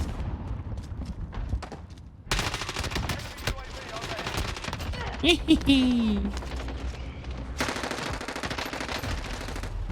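Rapid hip-fired P90 bursts in Call of Duty Warzone on Rebirth Island, dense automatic volleys in several bursts with short pauses, loud and close, mixed with game effects.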